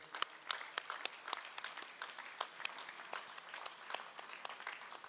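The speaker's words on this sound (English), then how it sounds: "Give him a round of applause, everyone." Crowd applauding at a junior track cycling meet in Adelaide, scattered claps from a sparse audience, fairly faint and distant with irregular rhythm.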